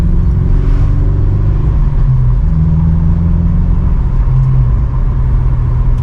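A 2006 Honda S2000 AP2 engine drones loud and close from inside the car while driving, a steady rumble whose pitch climbs and dips as it pulls through the gears, with no voices.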